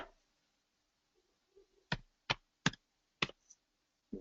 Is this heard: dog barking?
no